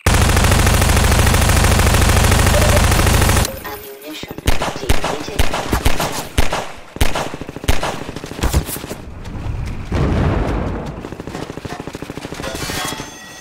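Rapid gunfire from Half-Life 2 strikes a wooden structure, beginning with a dense sustained burst, then breaking into irregular loud shots and impacts with splintering clatter, and swelling again near the end.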